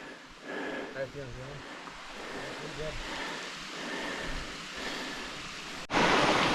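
Avalanche Brook, a mountain stream along a White Mountains hiking trail, rushes in a steady broadband wash close by while someone talks over it early on, with a louder surge of water near the end.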